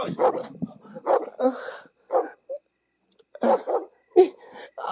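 A dog barks repeatedly in short, close bursts, with uneven pauses between yips and barks.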